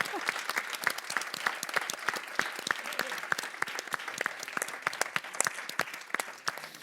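Energetic applause from the audience at a public civic dialogue, many distinct claps forming a loud continuous patter for several seconds, with faint voices mixed in.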